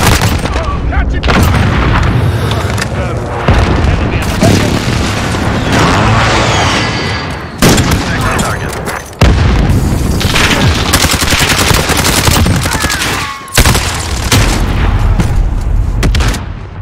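Precision airstrike explosions in Call of Duty: Modern Warfare, a dense, loud barrage of booming blasts mixed with rapid gunfire, continuous for most of the stretch with brief sharp dropouts between impacts, while radio chatter plays over the chaos.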